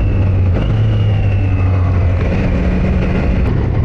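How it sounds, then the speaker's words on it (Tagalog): A Triumph Daytona 660 motorcycle engine runs loud and close while the clutch slips, giving a steady droning hum with shifting tones and a mechanical, clunky edge. The sound continues without pause, and no one speaks. "You could hear the clutch slipping when you're like playing with it."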